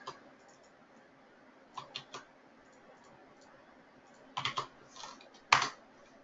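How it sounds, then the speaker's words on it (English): Computer keyboard typed on in short scattered bursts of a few sharp clicks with quiet gaps between, near and fairly soft, with no one talking. "if you want to type something in binary,"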